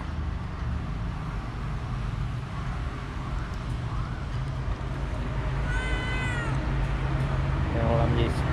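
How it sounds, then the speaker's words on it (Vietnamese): A cat meows outdoors over a constant low rumble of road traffic, giving a couple of drawn-out cries in the second half. "Mèo làm gì kêu mèo mèo ngoài ngoài rồi."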